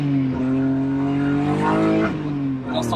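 BMW E30 fitted with an M50 engine revs hard and holds near the limiter, a sustained high engine note that dips and climbs again over a few seconds, heard close up.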